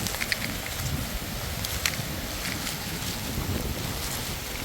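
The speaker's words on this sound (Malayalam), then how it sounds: "ഓ ഭയങ്കര കാറ്റ്." Steady roaring wind during a heavy rainstorm buffets the microphone, a broad continuous rush with gusty swells and no voices.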